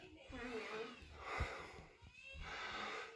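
A cat standing in a bathtub gives a few soft meows with a faint whine, close by, while a person talks quietly at the same time.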